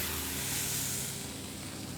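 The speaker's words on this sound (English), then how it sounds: "You can hear that sizzle." Steak searing in a hot pan, a continuous bright hissing sizzle at close range, fairly loud and steady with no voices over it.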